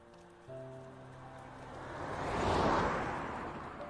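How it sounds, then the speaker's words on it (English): Rain falling on a car windshield, a soft broadband patter that builds from quiet to a steady, fuller wash of drops, heard alone. "listening to the sounds of the rain against the windshield"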